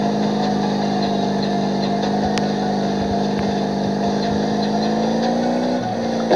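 Steady droning engine of a speedboat racing in a video game, continuous and loud with a constant pitch and no speech throughout.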